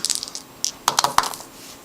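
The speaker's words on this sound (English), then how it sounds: "This means they will get to roll 2 dice to make a decimal number." Two dice are rolled during a decimal place-value math board game, giving a rapid scatter of light clicks and clatters that settles into a few sharp taps up close.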